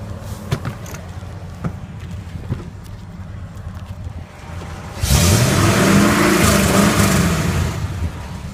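Ford F350 truck engine fitted with new headers and a muffler, idling with a low rumble before a loud sustained rev swells up and holds, close and strong.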